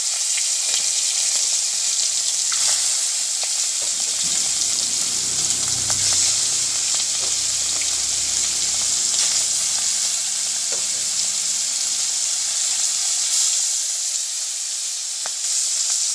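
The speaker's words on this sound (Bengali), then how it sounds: "তেলটা গরম হলে এক এক করে চিংড়ি মাছগুলো সব ভেজে নিব গোল্ডেন ব্রাউন করে" Prawns frying one by one in hot oil in a pan, a steady loud sizzle with faint stirring and bubbling running throughout, no talk.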